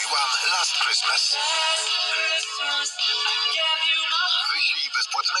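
A phone ringback tone playing a Christmas song, a bright, steady musical melody running continuously for several seconds at moderate level, with no talking.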